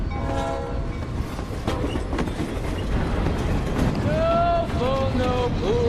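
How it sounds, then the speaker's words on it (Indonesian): A freight train rolls along the rails with a steady, heavy rumble and rhythmic clatter, and a loud horn sounds near the end over the noise of the moving cars. "naik kereta barang secara ilegal agar bisa kembali ke"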